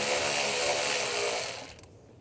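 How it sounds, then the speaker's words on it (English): An 8mm socket ratchet loosens a worm clamp under the hood of a 2011-2018 Ram 1500, a dense rapid clicking that runs close and steady, then breaks into a few separate clicks before stopping. "Using a 8mm socket,"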